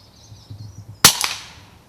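A single sharp shot from a Weihrauch HW100KT air rifle fired at a grey squirrel in autumn woodland, a loud close crack with a brief follow-up thud, after a moment of quiet low rustling.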